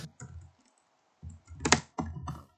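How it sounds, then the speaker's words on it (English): Fast bursts of typing on a computer keyboard during a competitive online game session, loud close clacking in three clusters separated by short pauses, with no speech. "Dude, I was fucking typing!"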